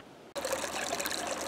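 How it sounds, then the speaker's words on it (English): A newly installed pond pump runs in a bog filter setup, its outflow trickling steadily into water after a brief quiet start, close and continuous with no talk. "I have the new pump hooked up and running."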